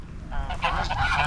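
Geese honking in a loud, close flock at a farm plot near a market in Arayat, with several overlapping harsh calls building over a low background rumble.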